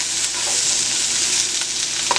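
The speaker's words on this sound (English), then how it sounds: "And then to that, I'm going to add the peppers. And we'll just stir this up for a few minutes." Peppers sizzle steadily in a hot pan for sweet and sour pork chops, with a few scraping stirs breaking through the close, even frying hiss.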